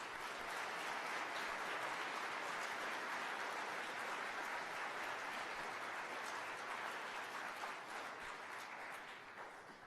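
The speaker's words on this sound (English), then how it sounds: "we should give the graduates a collective round of applause." A large audience at the 2017 University of Queensland Gatton Campus graduation ceremony claps for the graduates in a dense, steady wash of applause that holds for nearly ten seconds before thinning slightly at the end.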